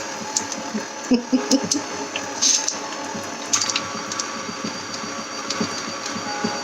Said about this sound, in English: Remember to start your machine off low so you're not cleaning ingredients off of you and your ceiling.